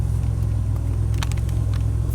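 Car driving on a sunny road, heard from inside as a loud, steady low engine and road rumble with faint rattles, no talk.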